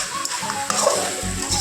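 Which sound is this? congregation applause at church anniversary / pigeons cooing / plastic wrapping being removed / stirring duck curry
stirring duck curry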